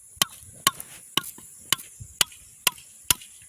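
Sharp knife chops strike a board at a steady pace, about eight crisp cuts through fish, close by with no talking.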